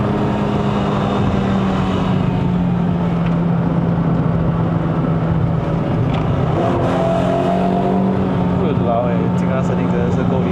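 Inside a Toyota Vios 1.5J (NCP150) with a four-speed automatic, the engine pulls hard uphill on a mountain road in Malaysia, a loud sustained drone that rises in pitch as it accelerates.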